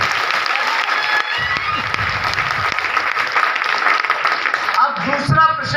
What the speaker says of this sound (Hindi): और जोरदार तालियां बजा लीजिए अपने लिए